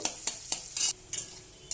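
Potatoes fry in oil in a pan, with paneer also part of the dish, as a spatula stirs them in sharp intermittent scrapes over a soft background sizzle, each stroke close and distinct.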